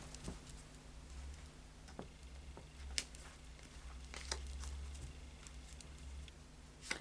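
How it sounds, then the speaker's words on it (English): A Tarot of Dreams card deck is shuffled quietly, with soft ticking and riffling taps scattered irregularly over a low background hum, with no one speaking. "So I'll just do a final shuffle now of the Tarot of Dreams."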